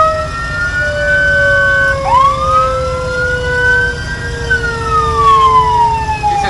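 A Federal vehicle siren blares nearby on a parked vehicle, its tones sliding up and down in overlapping sweeps above a low idling engine rumble.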